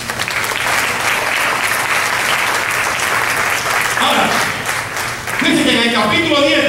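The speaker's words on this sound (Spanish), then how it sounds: "Denle un aplauso a Dios." Applause from a church congregation fills the space with steady, dense clapping, with a voice rising over it near the end.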